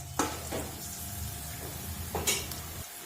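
Peanuts sputter and sizzle in hot oil in a pan, with soft stirring scrapes and a couple of brighter crackling bursts over a steady frying hiss; no one speaks.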